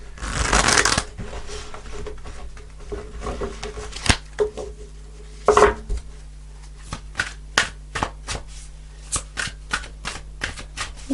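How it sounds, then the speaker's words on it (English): Tarot cards being shuffled by hand: a dense riffle at the start, then a run of crisp, separate card snaps and slides coming closer together toward the end, close by with no talking. "I'm going to pull one more card, Leo."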